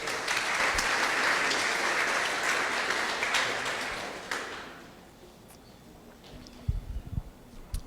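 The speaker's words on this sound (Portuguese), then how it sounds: "Você pode aplaudir o nome dele." Sustained applause from a church congregation during a sermon, loud and even for several seconds, then fading into quiet room tone with a few faint knocks and thumps.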